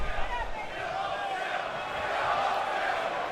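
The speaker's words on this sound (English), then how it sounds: "The crowd, Rosemont crowd, still firmly behind him." Arena crowd at a wrestling event in WWE 2K19, set in Rosemont, producing a steady, moderately loud roar of cheering that holds level throughout.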